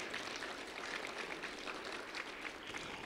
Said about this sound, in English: So a round of applause for them and the fine work that they do.